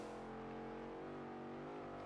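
A car engine droning steadily while driving in the racing game Forza Horizon, a sustained mid-pitched hum with no distinct revving, fairly quiet and alone.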